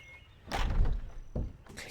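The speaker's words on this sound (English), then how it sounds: "I did not mean to open the door" A door opening in the puzzle game Riven: two short thudding bursts with a sliding rumble, close and fairly soft, the first longer, with a brief higher scrape at the end.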